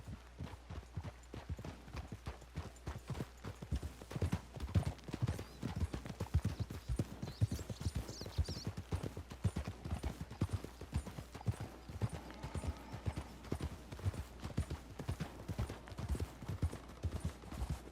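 Rhythmic clip-clop of horse hooves trotting steadily in the video game Red Dead Redemption 2, a fast repeating beat with a faint mechanical whir and brief whinny in the background.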